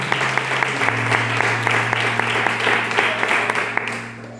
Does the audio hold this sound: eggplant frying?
no